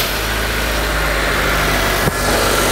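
A car engine idles loudly and steadily with a low hum and vibration, picked up close to the clutch area, and a single brief knock near the end.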